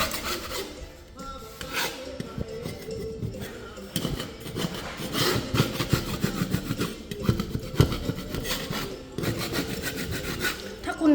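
Wood being cut at a house construction site, heard as a steady rasping, sawing scrape that continues in uneven strokes with some surrounding site clatter.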